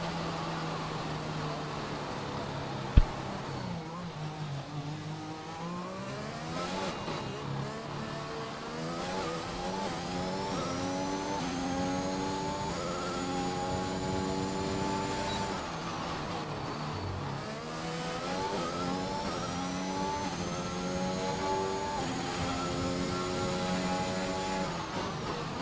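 Formula 1 race car engines in a racing video game at Monaco, a car on its out-lap warming its tyres, drone steadily with rising and falling revs and gear changes throughout, one sharp click early on, no talk.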